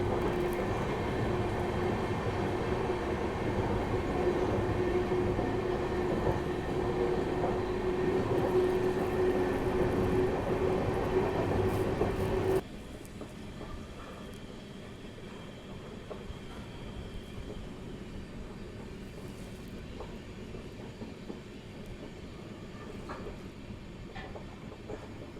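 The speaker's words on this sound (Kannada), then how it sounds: "Overtaking Tirupati Chamarajanagar express." Loud, continuous rumble and rattle of a moving Indian passenger train as the Tirupati Chamarajanagar Express overtakes, with a steady tonal hum that cuts off abruptly midway and leaves a quieter rolling clatter of wheels on rails.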